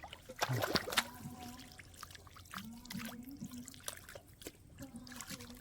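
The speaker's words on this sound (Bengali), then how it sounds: "এই দেখুন কাদা ছিটাচ্ছে" Large fish thrashing and splashing mud and water in a harvested paddy field, heard as intermittent wet splashes and trickling water at a close distance, with voices calling out in the background.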